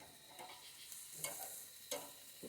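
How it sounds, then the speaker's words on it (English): Steak sizzles faintly in a frying pan, a quiet steady crackling hiss broken by a few louder spits and pops, with no voices over it. "listen to that sizzle"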